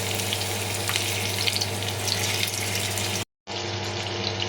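Prawns fry in hot coconut oil with a dense, loud, continuous sizzle and crackle close by, briefly cutting out for a moment before resuming at the same intensity.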